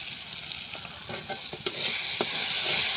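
Spices fry in a pan while a spatula stirs and scrapes them, making scattered sharp clicks and scrapes over a soft, continuous sizzle that grows slightly louder toward the end.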